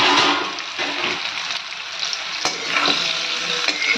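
Raw mango pieces fry in hot oil with asafoetida, a steady broadband sizzle with a sharp clatter as they are stirred, close and loud with no voices.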